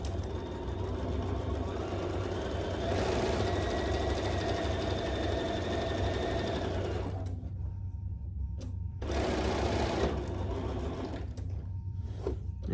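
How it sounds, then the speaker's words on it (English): A sewing machine runs steadily, top stitching either side of a pressed seam on a fabric clutch. The motor hums close and continuous, with a short pause partway through before stitching resumes. "from this side, I'm gonna top stitch on either side"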